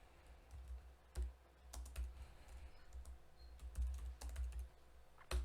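A computer keyboard is typed on in short, quiet bursts of soft key clicks at close range, with brief pauses between clusters.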